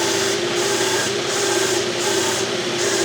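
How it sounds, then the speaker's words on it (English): A lathe-driven belt sander runs at high speed, its motor grinding with a steady loud whir and a pulsing, slightly strained rhythm as it bogs down under load. "You can hear the motor bogging down a little bit"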